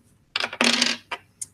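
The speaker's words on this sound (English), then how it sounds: "You would take turns rolling the dice." Dice are rolled for a classroom multiplication game, giving a quick clatter of tumbling hits and a couple of short, sharp bounces close by that settle within about a second, with no voices.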